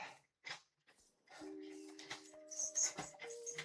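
A dog whimpers and whines in soft, broken high-pitched bursts, close and fairly quiet, with a few sustained tonal whines near the end.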